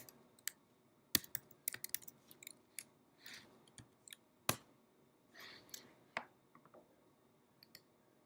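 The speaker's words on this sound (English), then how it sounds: "we type in Selector Gadget in the search box" Irregular clicks and clacks from a computer keyboard as a search term is entered in a web browser, with sharp isolated keystrokes and brief clusters, close up in a quiet room.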